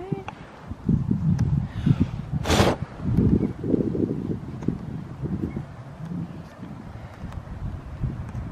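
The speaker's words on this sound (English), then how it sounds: "It's windy." Wind buffets the microphone in uneven gusts while people talk, with one sharp burst of noise partway through.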